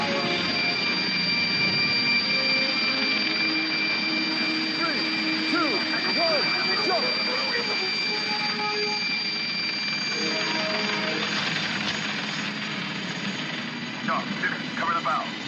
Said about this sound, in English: check out the chopper